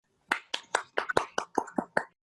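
Applause in a virtual seminar of the IECLB church, about ten separate close claps in an uneven rhythm, heard alone with no talking.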